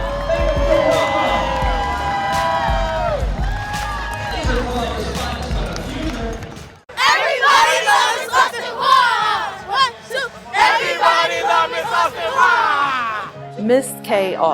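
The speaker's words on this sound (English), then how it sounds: "Come on, cheer them on!" A crowd cheers for kids at a city enrichment program event, with loud, shrill shouts and excited voices rising together. A ball bounces rhythmically under the noise, and the crowd grows louder after a brief lull partway through.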